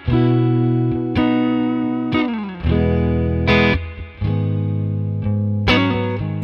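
Electric guitar played through the clean rhythm channel of a two-channel 20-watt tube combo amp, strummed chords ringing out in a steady rhythm, loud and close with a little warmth.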